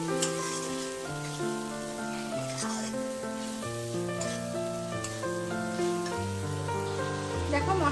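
Cumin, dried chilli, turmeric and salt frying in hot oil as a masala for a Bengali boal fish curry, a steady close sizzle running beneath prominent background music.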